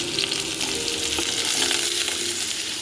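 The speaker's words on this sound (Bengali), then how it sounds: "এবার এটাকে আমি সুন্দর করে একটু ভেজে নেবো" Pumpkin and potato fry steadily in a pan with a continuous, close hiss and crackle of oil, with a few faint scrapes of stirring; no one speaks.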